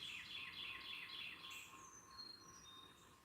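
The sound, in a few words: Carolina wren and Carolina chickadee calling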